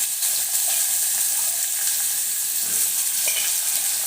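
Cumin seeds frying in hot oil in a pan give a dense, constant bright hiss and crackle, close and steady throughout with no talking.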